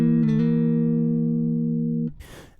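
A bass tritone lick on a dominant chord, where a quick half-step chromatic slide settles into a held two-note tritone that rings steadily for about two seconds and ends in a short noisy burst. No voices.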